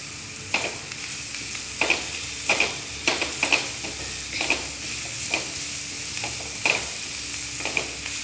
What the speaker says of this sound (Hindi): इस तरह थोड़ी देर चलाते रहिए